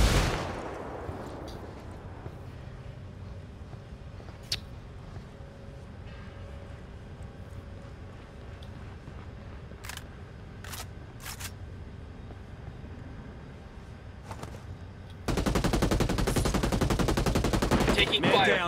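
Gunfire in the tactical shooter Ghost Recon Wildlands during a firefight at a lithium mine, with scattered sharp shots and bursts over a low rumble, then a louder sustained burst of noise near the end.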